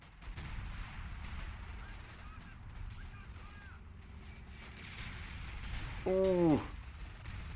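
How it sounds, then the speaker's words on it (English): Artillery guns boom in a WWII tank battle around Caen in a video game, a few muffled blasts rolling in under continuous battle noise, with one short voiced exclamation near the end. "Now the artillery is starting to sound off."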